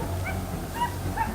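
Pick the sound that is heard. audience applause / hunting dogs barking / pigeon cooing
hunting dogs barking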